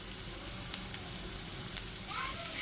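Onions sautéing in a pan for egg and vegetable samosa filling give a steady, close sizzle with light crackles and occasional stirring scrapes, no voices.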